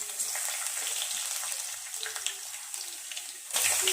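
Crushed garlic hits hot oil already holding chana dal and cumin, giving a steady close sizzle with small crackles throughout and a louder burst of spitting near the end, with no talking.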